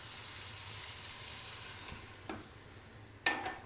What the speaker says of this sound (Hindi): इसको मैं उबलते हुए पानी को डालूँगी,